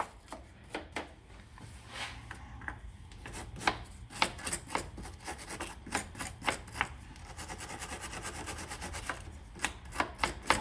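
A wire brush scrubbing gunk from the positive and negative terminals of a Honda car battery, a rapid run of short, gritty scratching strokes, close and fairly quiet, quickening toward the end.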